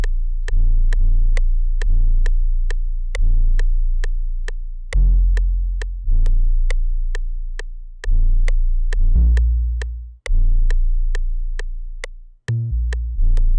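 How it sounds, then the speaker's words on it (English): An 808 bass pattern programmed in FL Studio thumps out deep booming notes with long decaying tails in an irregular, bouncing rhythm, loud and alone, with sharp clicky attacks on each hit. "Then, guys, we have the 808 pattern, which is going to sound like this."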